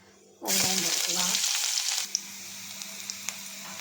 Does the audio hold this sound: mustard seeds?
yes